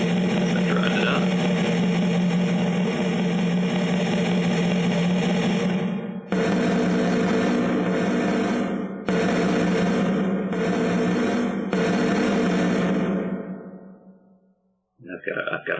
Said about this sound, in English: you can hear, especially on that second snare, the increase in velocity as you drive that stick up